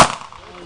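One sharp pistol shot from a Glock or .45 handgun at an outdoor rifle club range, a sudden loud crack followed by a brief fading ring.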